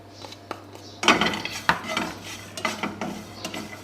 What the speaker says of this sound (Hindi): इनको भी मैं 1 मिनट के लिए ड्राई रोस्ट कर लूँगी, खुश्क भून लूँगी, बगैर किसी तेल के